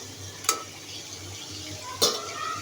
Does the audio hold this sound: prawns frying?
yes